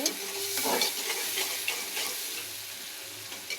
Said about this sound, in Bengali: এই যে দেখো মশলাগুলো এখন কষিয়ে নিব